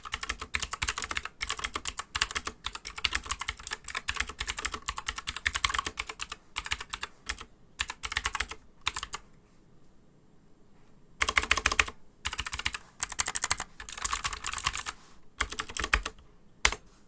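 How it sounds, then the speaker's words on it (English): Rapid, clicky typing on a Keychron K2 V2 mechanical keyboard with blue switches, in bursts, close and crisp, with a pause of silence partway through before the clacking resumes. "typing with this keyboard and this switch is nothing short of brilliant"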